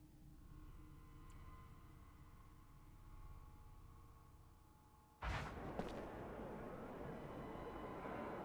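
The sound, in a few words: explosion in video game Mars: War Logs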